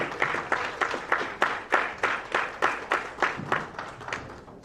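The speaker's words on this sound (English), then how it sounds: "Let's get a good round of applause for our high school students" A crowd at a school geography bee claps for high school students in a rhythmic, synchronized beat, about three claps per second, moderately loud and steady throughout.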